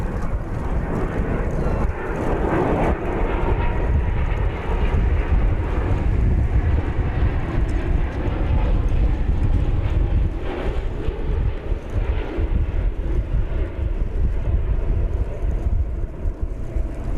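A jet airliner landing at DFW Airport after a 10-hour trip, with a loud, steady low engine roar and rushing wind noise filling the whole stretch and a voice talking over it.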